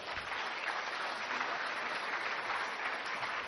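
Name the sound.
audience applause in church welcoming a missionary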